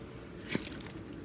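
Canned Rotel tomatoes with their juice plop into a dip in one brief wet squish, fairly quiet against a soft room background with no talk.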